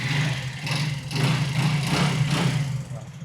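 A second-hand Hero Glamour motorcycle engine idles steadily nearby, a low, even rumble with slight pulsing throughout.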